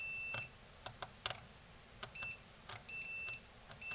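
Several short electronic beeps from a multimeter continuity test on a Nakamichi IA-1z, some brief and some sustained, sounding intermittently with faint clicks and taps between them.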